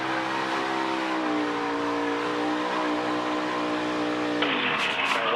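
A race car engine holds a steady, loud full-throttle drone through a crash at about 160 miles an hour, then the tone shifts abruptly near the end as the car keeps going.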